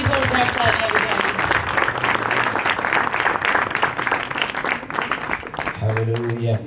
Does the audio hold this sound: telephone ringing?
no